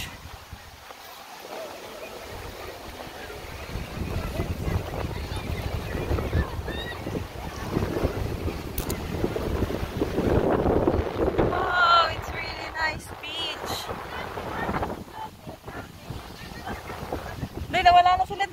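Strong gusty wind buffets the microphone on an open beach, with a steady roar of rushing air and a possible boat or surf wash underneath, while people talk intermittently and a bird calls faintly near the end.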